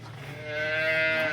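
A cow that is due to calve today lets out a single long, close moo, which rises and holds at full strength. No one speaks over it.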